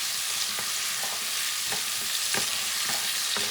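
A spoon works through a pot of bison stew with carrots, celery and pumpkin pieces, making regular scraping strokes about every half second over a steady, close sizzle.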